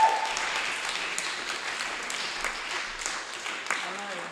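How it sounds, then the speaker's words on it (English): Applause at a school assembly, a steady wash of clapping held at moderate level from start to end, with a voice starting to speak near the close. "Hannah needs an extra big round of applause"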